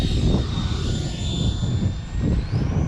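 An RC EDF jet landing on a runway, its ducted fan whining steadily at close range with a rumbling wind-like roar underneath and a faint rising pitch near the end.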